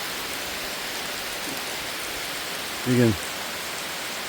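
Steady rain falls through trees in a dense, even hiss, close and continuous, with a brief low voice speaking under it near the end.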